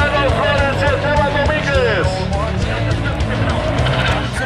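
Suzuki Samurai four-cylinder off-road race cars roar in a 4x4 club championship heat, engines revving and sweeping in pitch as they pass, loud and continuous under an announcer's voice.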